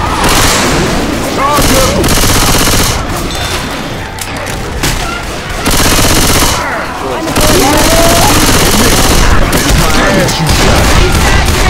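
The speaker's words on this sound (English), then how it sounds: "Grabbing the machine gun." Sustained machine gun fire in the Left 4 Dead 2 versus mode, loud and continuous across the whole stretch with booms and dense battle noise, while a player shouts over the gunfire.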